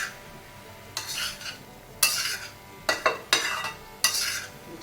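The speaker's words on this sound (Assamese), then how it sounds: "এতিয়া গোটেইখিনি ভালদৰে লৰাই দিছোঁ" Vegetable curry being stirred in a pan over a low flame, with five bursts of scraping, clattering utensil strokes against the pan and a soft sizzle between them, close and clear, no talking.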